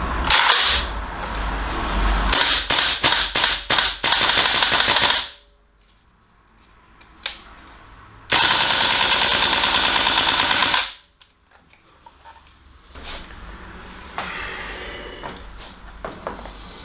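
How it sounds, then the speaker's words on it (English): Tokyo Marui AKM gas blowback airsoft rifle firing loud, close bursts of rapid clattering shots, with several long strings of fire separated by quiet pauses and a few softer mechanical clicks and handling noises. "So very similar to like the chatter you get on a real AK. It's just like that, and yeah, it is enjoyable to shoot."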